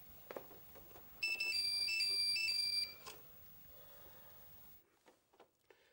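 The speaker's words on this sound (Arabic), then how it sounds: "الموبايل بيرن" A mobile phone ringtone plays a loud melodic electronic tune for about a second and a half, set in a domestic scene from an Egyptian TV drama, followed by quieter room sounds.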